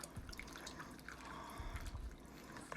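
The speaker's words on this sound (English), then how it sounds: "I'm just gonna beat the lettuce around in the water." Lettuce is stirred and beaten around in a bowl of water in a home kitchen, making soft continuous sloshing and dripping splashes up close, with no talking.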